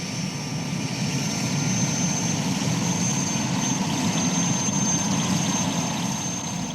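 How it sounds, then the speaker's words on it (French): Helicopters running shuttle trips give a steady, droning engine hum with a faint high whine, moderately loud and unchanging, with no voices over it. "les hélicoptères font la navette"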